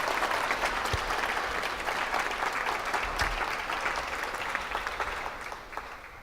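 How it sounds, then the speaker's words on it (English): An audience applauds the Director of Programming at a season announcement event: a sustained round of dense clapping from a seated crowd, loud at first, then slowly thinning and fading toward the end. "Can we just please give one more round of applause to our Director of Programming, Emil?"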